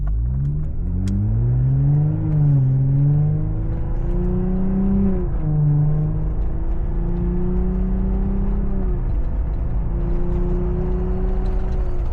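A Jeep 3.6-liter Pentastar V6 hums and revs through the exhaust, pitch rising and falling in gentle surges, steady and close with a low droning rumble.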